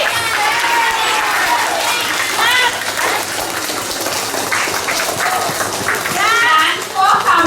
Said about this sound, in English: Can we have a huge round of applause for the students?